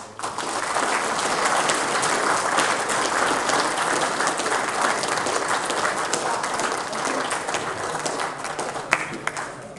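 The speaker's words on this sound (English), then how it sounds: "So Let's give them all a big round of applause." A crowd gives sustained applause, dense steady clapping that holds for the full stretch and barely tapers at the end.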